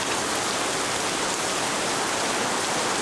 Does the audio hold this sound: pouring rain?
yes